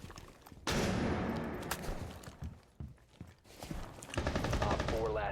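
A flashbang grenade goes off in a video game with a sudden loud, close burst that rings and slowly fades, followed by gunfire-like crackle and footsteps, with a voice heard at times.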